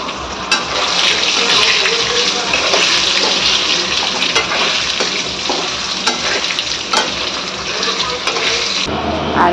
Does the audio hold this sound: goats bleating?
no